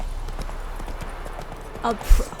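Horse hooves clip-clop in a steady rhythm in the video game The Witcher III, fairly close, with someone talking over them near the end.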